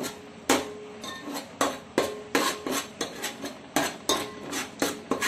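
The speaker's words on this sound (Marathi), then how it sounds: "मसाला पूर्ण परतून एकदम शिजवून घेऊया" A spatula stirs and sautés pav bhaji masala with butter and coriander in a metal pan, making about a dozen sharp metallic clacks and scrapes in a steady rhythm, close and loud, with no voices.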